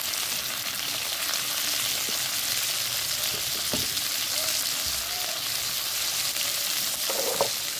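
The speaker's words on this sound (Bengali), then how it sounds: "খানিকটা কষিয়ে নিয়েছি আলু দিয়ে" Potatoes with salt and turmeric sautéing in a pan for a Bengali fish curry, a steady loud sizzle with a few soft stirring clunks, no talking.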